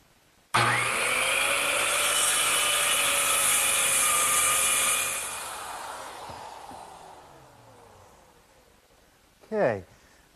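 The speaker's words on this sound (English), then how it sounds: "I'm just going to use my circular saw to trim it off" A circular saw guided by a clamp straight edge trims the end of a wooden tabletop, a loud steady whine from start-up through the cut, then winding down over several seconds, with a brief voice near the end.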